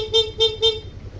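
Three short honks from a Honda Click150 scooter fitted with a blow punk shell horn, evenly spaced and fairly loud, each a bright buzzy tone, with a faint engine rumble underneath.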